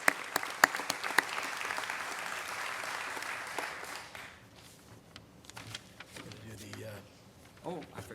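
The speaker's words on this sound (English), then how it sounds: "let's give everybody a big round of applause for this." An audience at a Chester County Hall of Fame award ceremony breaks into a loud, dense round of applause lasting about four seconds, then fades as scattered claps and murmuring voices trail off.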